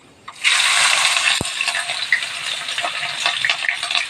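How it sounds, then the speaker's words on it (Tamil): Loud, steady sizzling and crackling as chopped onions hit a hot pan and keep frying for a green chicken gravy, with faint stirring scrapes throughout. "வெங்காயமெல்லாம் கொஞ்சம் நல்லா வதகணும்"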